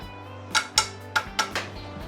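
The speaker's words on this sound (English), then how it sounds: "I am just gonna flip these chicken pieces while they're cooking in this sauce" Chicken pieces being flipped in a pan of honey garlic sauce, four or five sharp clinks of a utensil against the pan over a low, steady sizzle.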